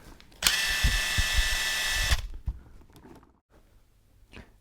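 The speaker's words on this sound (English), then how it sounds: "The impact wrench is usually used for really big bolts, like putting this bolt in this beam that holds my whole house together" An impact wrench with a push-on socket chuck runs in one loud, continuous burst of roughly a second and a half, with hammering clatter, then stops, leaving light handling noises.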